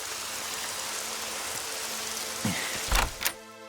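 Steady rain falls throughout, a continuous broadband patter on surfaces, with a few brief knocks and a door-like clatter near the end.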